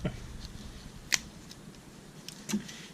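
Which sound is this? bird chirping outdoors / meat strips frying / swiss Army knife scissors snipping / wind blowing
swiss Army knife scissors snipping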